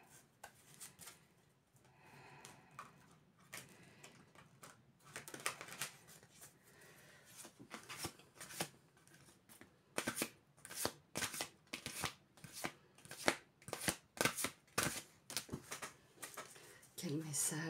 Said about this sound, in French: Attendez, je mélange.